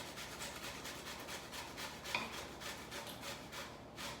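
Zucchini being grated for a cheesy casserole, a steady run of quick rasping strokes against the grater, close and quiet, with no talk.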